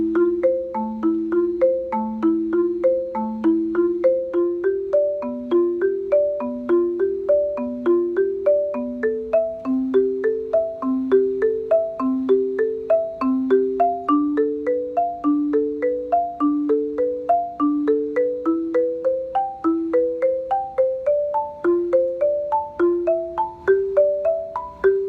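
Marimba notes climb through a repeated up-the-scale pattern, struck evenly in steady overlapping pairs, bright and close, played alone for the whole stretch.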